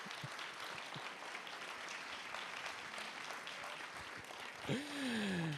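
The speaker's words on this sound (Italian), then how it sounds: "Direi un grande applauso." Audience applause at a public talk in Conegliano, a steady wash of clapping lasting several seconds, followed near the end by a brief voice rising over it.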